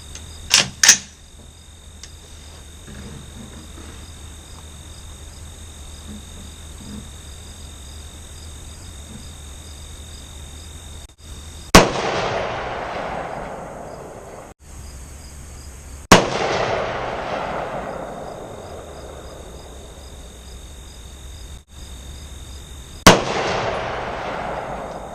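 Four 5.56 rifle shots while sighting in a scope at 100 yards, each a sharp loud crack followed by a long rolling echo, spaced several seconds apart with quiet outdoor background between.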